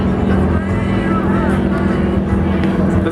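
GEICO SkyTypers propeller aircraft maneuver overhead at the Jones Beach Air Show, a continuous loud engine drone mixed with crowd babble and outdoor noise.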